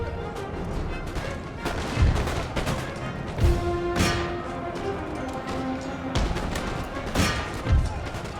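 Cannons fire across a Napoleonic-era Empire: Total War battlefield in scattered booms, about half a dozen deep thumps spaced a second or two apart, over a constant din of battle noise.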